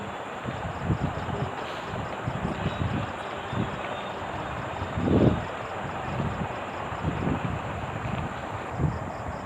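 A Ranaghat local train rumbles along with a steady, broadband clatter and rush of wind from a window seat, with occasional louder thumps from the carriage.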